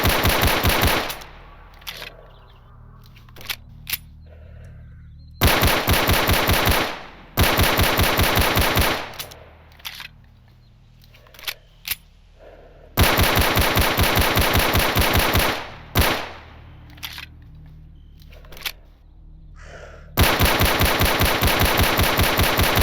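Rapid bursts of 9mm handgun fire in S.T.A.L.K.E.R. Anomaly, loud and close, in several long sustained strings of evenly spaced shots separated by quieter gaps with faint clicks and handling noises.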